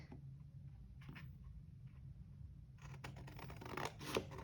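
Paper being cut with scissors while making a Christmas flatbox, quiet snips and rustles that begin sparse and thicken into a busier run of cutting sounds toward the end, close and soft.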